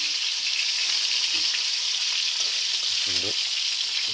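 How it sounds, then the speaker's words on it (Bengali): Fish frying in a pan, a steady loud sizzle running throughout, with a brief voice speaking over it near the end. "মাছগুলোকে ছেড়ে দেওয়ার পরে তিনি এখন ভাজি করতেছেন।"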